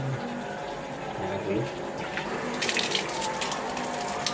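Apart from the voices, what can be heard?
running tap water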